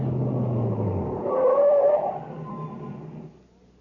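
A truck engine idling and rumbling near a reactor equipment building, swelling briefly with a squealing tone like brakes, then dropping away as it comes to a stop.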